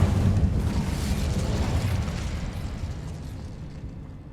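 A fiery Incendio spell cast in Hogwarts Legacy bursts out as a loud, roaring whoosh of flame that starts strong and slowly fades over several seconds, with no voices over it.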